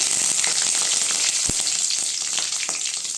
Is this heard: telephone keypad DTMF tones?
no